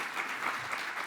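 An audience at a scholarship dinner claps steadily at moderate distance, a soft, even wash of applause through the brief moment.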